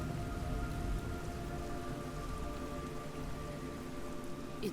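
Steady rain falls in the Metal Gear Solid Snake Eater video game, a constant dense hiss of drops on surfaces with a faint low rumble beneath and no voices.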